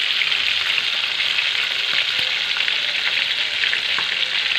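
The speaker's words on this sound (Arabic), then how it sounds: "هنقلي السمك." Fish pieces frying in oil with a steady, dense sizzle and crackle that stays loud and even throughout, no voices.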